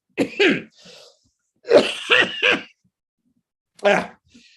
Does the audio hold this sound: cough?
yes